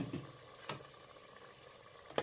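Moong dal and potatoes frying in a pan give off a faint, soft sizzle with a few brief crackling bursts as water is added, quiet and close throughout.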